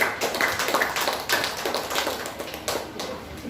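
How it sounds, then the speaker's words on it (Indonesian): Scattered applause from a church congregation at an anniversary service, a few hands clapping in uneven bursts rather than a full ovation, fairly close and without voices. "tepuk tangan."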